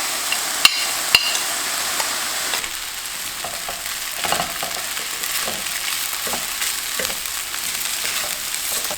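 Couscous stirred and sizzling in a frying pan, a steady loud fry with scraping stir sounds and a couple of sharp knocks early on, no voices.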